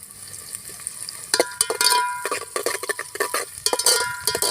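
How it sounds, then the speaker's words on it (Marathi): Onions frying in oil in a pot on an outdoor clay stove make a close sizzle, with bursts of stirring and scraping against the pan and metal clinks. "कांदे चांगले तेलामध्ये भाजून घ्यायचे"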